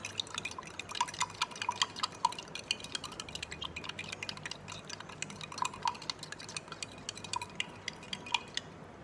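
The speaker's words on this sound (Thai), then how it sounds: "ลองใส่อีกหนึ่งช้อนนะคะ แล้วคนค่ะ" A spoon stirs salt into a glass of water, giving light repeated clinks and scraping taps against the glass in an irregular rhythm, close but faint, with no talking.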